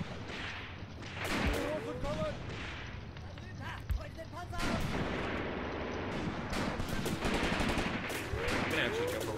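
Gunfire during a massive infantry assault in the video game Graviteam Tactics: continuous rattling rifle and machine-gun fire with heavier distant booms, dense and steady throughout, a voice speaking over it at times.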